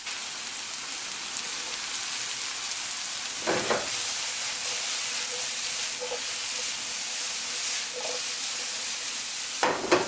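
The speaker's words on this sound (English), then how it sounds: "So we're gonna let this saute again for a few minutes" Arborio rice sautés in a pan for a mushroom and butternut squash risotto, a constant dense sizzling hiss with a few faint knocks of a utensil.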